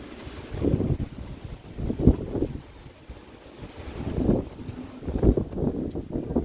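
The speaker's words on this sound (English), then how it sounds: "Here comes the wind." Wind blowing outdoors during rear brake work on a 2011 Hyundai Santa Fe, coming as low, rumbling gusts that buffet the microphone, rising and falling over several seconds with no voices.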